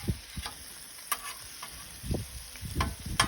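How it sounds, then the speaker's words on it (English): Bacon, onions and peppers fry on a griddle outdoors, a low steady sizzle broken by several short scraping taps of a spatula flipping the bacon, close and fairly quiet. "got my onions and my peppers here, flipping over my bacon."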